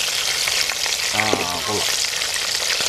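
Quail sizzling steadily in a pan for a Kerala pepper roast, a constant bright hiss of frying with a brief clatter of stirring partway through, close and without talk.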